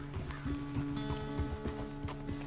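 Horse riding in the video game Red Dead Redemption, with steady clip-clop hoofbeats falling in a regular rhythm over a low tonal hum and faint ambient game sound.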